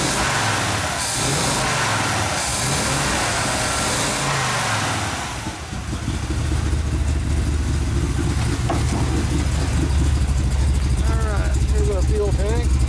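A 1968 Chevrolet El Camino SS396 with a big-block V8, running rich and smoking a little, idles loudly and steadily up close with a low rumbling drone, while someone talks over it early on.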